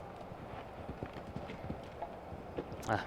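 Horse hooves thudding on the arena footing during a show jumping round at an international competition in Las Vegas, a steady faint rhythm of strides with crowd ambience behind.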